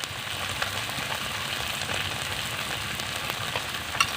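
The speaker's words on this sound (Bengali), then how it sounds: "এবার মশলাগুলোকে ভালো করে কষে নেব।" Spices with ginger paste, chili powder, turmeric and salt fry in a hot pan for a snakehead fish curry, a steady close sizzle with faint stirring scrapes throughout and no talking.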